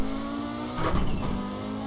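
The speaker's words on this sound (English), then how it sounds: "car is actually 5 cylinders, so it has a very off-kilter tone" A five-cylinder Audi engine with an uneven, off-kilter tone revs briefly, the harmonic drone swelling in a short burst mid-way before settling back to a steady idle, close and fairly loud.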